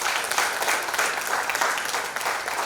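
An audience claps steadily and warmly to welcome a guest at a silver jubilee ceremony of the Military Engineering Services and Builders Association, the applause dense and continuous throughout.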